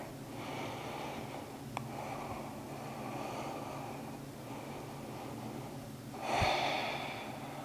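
Slow, audible breaths drawn in and pushed out during a pregnancy yoga pose with clasped palms and lifted elbows, soft and close, with one sharper exhale near the end.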